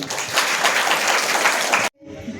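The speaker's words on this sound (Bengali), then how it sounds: "শঙ্করী রক্ষিত মহাশয়ের জন্য একটা জোরে হাততালি।" Loud applause from an audience honoring Shankari Rakshit at a Bengali women's self-help group launch event for kantha embroidery, steady clapping for almost two seconds that cuts off abruptly before quieter room noise.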